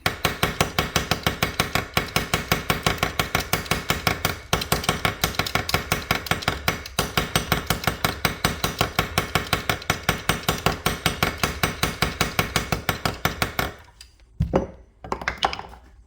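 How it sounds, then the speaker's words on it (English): Rapid, steady hammer blows ring out on the metal of an Abus XP1 lock cylinder for many seconds, then stop; after a short pause, a few more strikes follow. "time to use the hammer"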